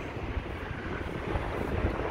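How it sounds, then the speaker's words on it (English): Steady wind gusting against a microphone on the North Promenade in Blackpool, a low, continuous rumble with no one speaking. "Bit of a blow this morning. It's a bit windy, actually."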